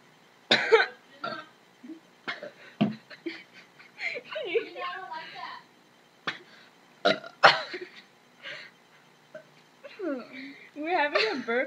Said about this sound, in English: We're having a burping contest.